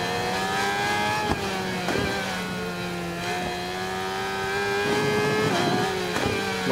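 Engine of a 600cc stock-class sport motorcycle in the video game RIDE 4, a high continuous whine that rises and falls through the gears with brief dips at shifts, loud and close throughout.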